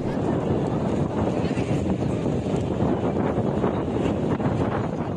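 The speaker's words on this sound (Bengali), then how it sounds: "এতটাই বাতাস আর ঝড় যে খেলা চালিয়ে যাওয়া সম্ভব হয়নি।" Strong wind from a Baishakhi storm sweeping a football stadium during a cup final, a loud continuous roar and buffeting against the microphone that never lets up.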